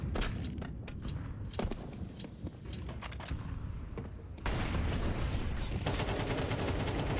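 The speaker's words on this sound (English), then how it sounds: "not an AWP for Jame, it's an AK" Rapid AK rifle gunfire in a Counter-Strike esports match, sharp repeated shots over dense game noise and crowd-like ambience, with a louder, busier stretch in the second half and no voices.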